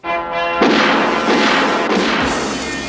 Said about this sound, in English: And he's shooting at random buildings.